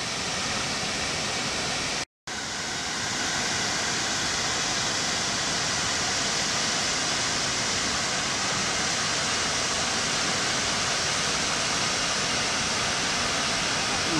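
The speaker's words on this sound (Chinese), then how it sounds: "呢個就係吊水樓瀑布啦。" Diaoshuilou Waterfall at Jingpo Lake in Heilongjiang roars close by, a loud, steady broadband rush of falling water that drops out for a moment, then continues unbroken.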